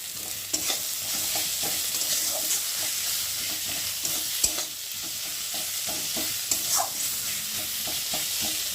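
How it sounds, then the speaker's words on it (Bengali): Spice paste with salt, turmeric and chili powder is fried for an egg curry, a loud steady sizzle punctuated by frequent spatula scrapes and knocks against the pan, close by and without any voices. "দিয়ে মশলাটা খুব ভালো করে ভেজে নেব"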